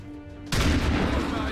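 A single loud gunshot in XCOM 2 bursts in sharply after a quiet start, followed by a ringing, rumbling tail of game effects.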